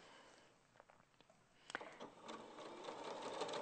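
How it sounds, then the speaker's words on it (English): Sewing machine stitching a straight seam, a quiet rapid mechanical whir that begins with a few clicks and builds into a steady, louder hum near the end. "Sew yourself a straight line, down you go."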